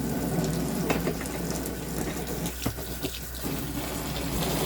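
Water runs from a tap into a portable washing machine inside an RV, a steady close-up splashing fill with a few sharper gurgles and knocks midway.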